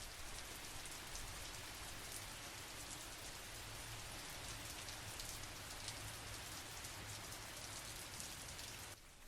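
Rain falls steadily in a dense, even patter of drops on surfaces, soft and continuous, with a slight drop in level near the end.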